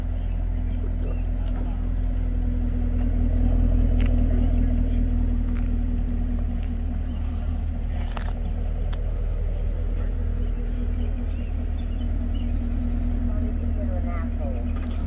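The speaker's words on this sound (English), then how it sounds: "Nice Camaro." A Chevrolet Camaro idles nearby with a low, steady engine rumble and constant hum, joined by a few brief clicks and knocks, while people talk faintly in the background.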